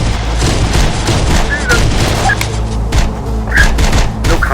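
Gunfire in the video game Terminator Dark Fate Defiance, a steady wash of shots with booming impacts over a low rumble, while voices talk intermittently over the battle.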